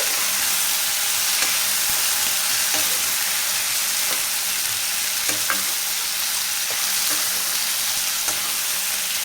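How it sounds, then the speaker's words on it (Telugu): Precooked mutton fries with onion, tomato and chilli in a loud, steady sizzle, broken by occasional scrapes and knocks as it is stirred, with no voices. "ఇప్పుడు ముందుగా ఉడికించుకున్న మటన్ అయితే వేసేద్దాం ఇప్పుడు దీన్ని బాగా మిక్స్ చేసుకోవాలి"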